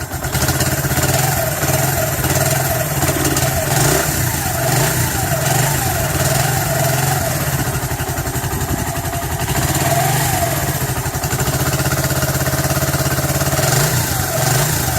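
A Sinnis Cafe 125 motorcycle's engine idling steadily, loud and close, a continuous even throb with a slight waver in pitch.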